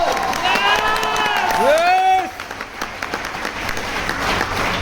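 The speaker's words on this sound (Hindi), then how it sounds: "जोरदार तालियां जोरदार" Loud applause and cheering from an audience at a celebration program in Raipur, a dense steady wash of clapping with crowd voices and whoops rising through it, fading slightly toward the end.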